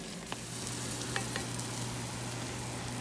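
Eggs with spinach cooking in a cast iron pan with the stove turned off, a steady close sizzle and soft crackle from the hot pan, continuous and even with a low hum underneath.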